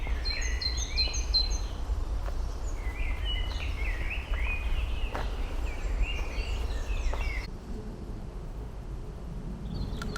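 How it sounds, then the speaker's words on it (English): Birds singing outdoors in spring, several overlapping high chirps and warbling phrases repeating steadily over a constant low background rumble, moderately near. "So nice to hear all these sounds from the birds."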